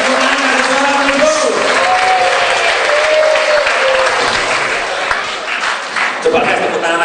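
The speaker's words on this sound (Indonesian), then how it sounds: "Kasih tepuk tangan, kasih suara dulu." A seminar audience claps loudly and steadily, with cheers and shouts rising over the dense applause and voices talking through it for the whole stretch.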